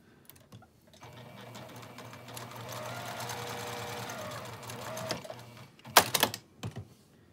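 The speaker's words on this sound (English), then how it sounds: "So I'm just going to sew down either side. With an eighth of an inch seam." A sewing machine runs steadily for a few seconds, stitching down both sides of an apron strap with an eighth-inch seam. Close, quiet mechanical whirring is followed by a few sharp clicks and handling noises.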